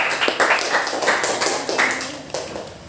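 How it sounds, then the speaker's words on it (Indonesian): Clapping from a small group of classroom students during a lesson quiz game, a few sharp, uneven claps close by in a quick, scattered burst. "Tepuk tangan kelompok 2."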